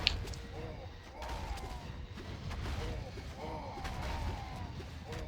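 Cannon unit in the video game Legion TD firing in a rapid series of booming shots over dense low rumble, with a player talking throughout.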